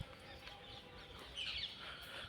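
Faint birdsong outdoors in the garden at the tomb of the poet Raskhan in Gokul, with a brief cluster of high chirps over a soft airy background.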